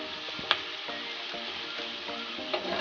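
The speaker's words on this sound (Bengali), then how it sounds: "তো আমি ভাজাটা তুলে ডাইরেক্ট ডালের মধ্যে দিয়ে দেবো।" A fried tempering is tipped into cooked lentil dal and crackles with a steady, close sizzle, with a couple of sharp clinks from a utensil.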